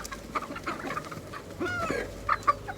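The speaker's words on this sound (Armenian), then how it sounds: "Հալալ ուտել ես հավերը" Hens being fed wheat cluck in soft, irregular bursts, close by and fairly quiet, with a few sharper squawks toward the end.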